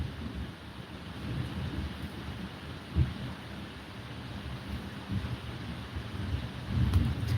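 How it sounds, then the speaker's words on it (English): Low rolling thunder rumbles after a lightning strike, distant and soft under steady rain and wind noise, with a few heavier swells. "Because there goes the thunder."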